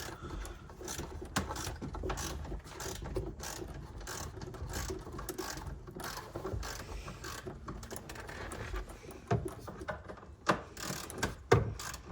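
A hand ratchet loosens the nuts holding a roof on a Hyundai, with quick, close ratcheting clicks in bursts and a few louder knocks near the end.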